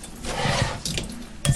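Tap water runs over frozen raspberries in a kitchen sink, a continuous close splashing wash with small irregular drips and surges.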